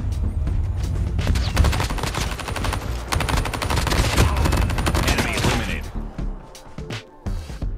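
Gunfire in Call of Duty Mobile, dense automatic bursts and rapid shots rattling almost nonstop at close range for about six seconds, then thinning to a few scattered shots.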